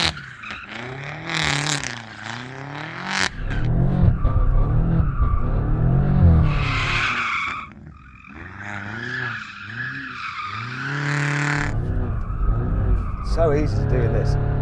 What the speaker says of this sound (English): Let's do some skids.